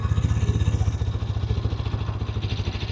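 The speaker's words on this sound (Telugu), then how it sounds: "ఇది మనకి ఐడ్లింగ్ లో సౌండ్." A Hero Xtreme 160R 4V motorcycle engine idles close by with a steady, rapid low thump that stays even throughout, with no revving.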